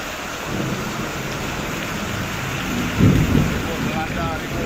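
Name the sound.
heavy rainstorm with thunder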